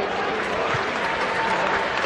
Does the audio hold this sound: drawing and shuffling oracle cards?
no